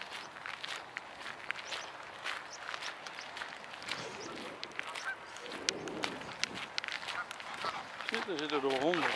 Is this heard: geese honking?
yes